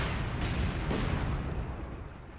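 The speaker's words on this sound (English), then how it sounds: "That light artillery barrage really didn't do too much" Light artillery barrage in Company of Heroes 2, a dense continuous rumble of distant shell impacts and blasts with a couple of sharper bursts, fading slightly toward the end.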